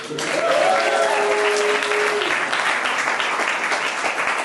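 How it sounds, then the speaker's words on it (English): An outdoor fundraiser audience bursts into applause, a full, even roar of many hands clapping that stays strong throughout, with a faint voice or two mixed in near the start. "So let's clap for the non-rain."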